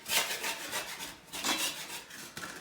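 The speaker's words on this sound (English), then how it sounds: "Putty knife and it's actually a trowel that I'm just gonna try to scrape. It comes up relatively easy. The caulk residue." A putty knife used as a trowel scrapes old caulk residue off a bathroom floor where a toilet is being installed, a series of close, raspy strokes in uneven bursts, fairly quiet with no talking.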